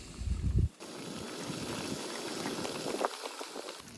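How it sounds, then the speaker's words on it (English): Water boiling on a camping stove at a windy summit wild camp in the Black Mountains, a soft continuous bubbling hiss after a short low rumble of wind or burner at the start. "Boiling water, letting that kind of boil for a few minutes."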